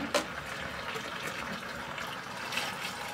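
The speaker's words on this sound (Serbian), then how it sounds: "Sada je potrebno da sipate ponovo toplu vodu, malo deterdženta za pranje posuđa i sirćeta." Warm water poured for washing, a continuous soft splashing and trickling flow that runs for a few seconds, quiet and close, with no speech.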